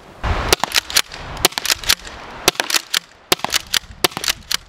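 An Umarex T4E HDX less-lethal shotgun fires pepper rounds in a rapid string of sharp, loud pops, roughly a dozen cracks in under five seconds, close by and mostly evenly spaced.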